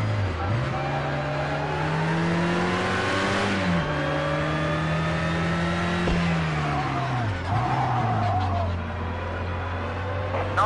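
Race car engines from the video game Project Cars 2 drone steadily at high revs, pitch dipping and climbing through gear changes and overtakes, a continuous loud whine with faint tire noise.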